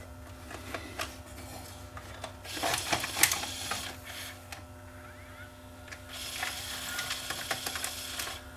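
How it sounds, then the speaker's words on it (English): A Toshiba D-VR7 VCR mechanism whirs, ratchets and clicks as it loads a tape over a steady mains hum, with two louder bursts of motor and gear noise, all fairly quiet. "Let's see whether I can get a tape to go into it."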